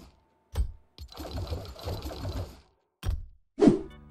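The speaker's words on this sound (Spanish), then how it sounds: "El pico estaca endeble regresó después de 314 días. Así es como se vería y así es como suena." Fortnite pickaxe, the Pico estaca endeble, heard alone in a game: short bursts of mechanical whirring and clicking separated by silences, including one longer buzzing run and a sharp final hit, close and clear.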